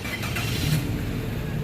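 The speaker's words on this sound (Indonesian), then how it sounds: "Sekarang kita coba start mobil ya." A 2014 Daihatsu Sirion 1.3 D automatic with about 103,000 km cranks and catches, giving a steady, fairly loud mid-range engine rumble that holds through the short moment.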